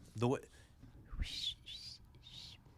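A voice speaks briefly, then a person blows three breathy, airy attempts at a high whistle, each faint and wavering with short pauses between.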